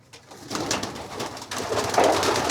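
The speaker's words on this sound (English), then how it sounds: "I'm gonna put the birds out in the aviary." Racing pigeons coo inside a loft, repeated soft throaty calls layered over each other at close range, with some rustling and no talk.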